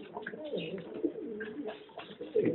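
Domestic pigeons coo softly and repeatedly at close range, their low throaty calls overlapping in a loft setting.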